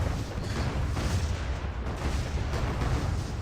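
Dense, rumbling bursts of firework-like explosions from the online game ArcheAge crackle and boom continuously, a loud, full wall of overlapping blasts with no speech over them.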